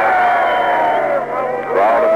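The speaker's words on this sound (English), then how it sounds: "crowd in the background seem rather happy about the whole thing" An archival radio recording of a crowd cheering in divided Berlin as the first vehicles pass through, with a broadcaster talking over the muffled, narrow-sounding roar.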